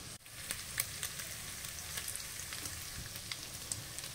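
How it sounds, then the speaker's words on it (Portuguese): Bacon fries in olive oil in a pan, giving a steady, close crackling sizzle with scattered sharper pops throughout and no voices. "Agora vamos deixá-lo fritando aqui."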